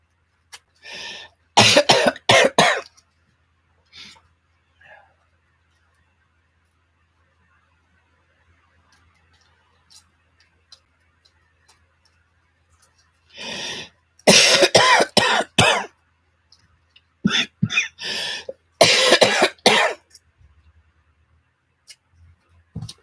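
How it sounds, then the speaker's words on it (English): Someone coughs in several harsh, close bursts, clustered at the start and again later, separated by long quiet stretches with faint small sounds. "She said I may cough for the next few months."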